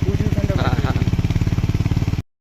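A motorcycle engine runs close by on a hill road near a deer park at Dow Hill, Kurseong, with a steady, rapid thumping rhythm throughout before it cuts off abruptly.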